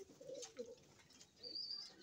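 A racing pigeon named Chubby gives soft, close cooing calls, a few low murmured coos across two seconds with faint background noise.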